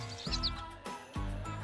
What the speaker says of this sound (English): Oh, what a beautiful song. It also has a cute orange chest. A robin.